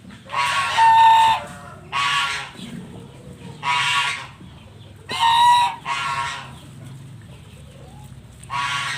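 Chickens close by cluck and crow in repeated loud bursts about every second or two, some with long drawn-out calls, over a quiet background.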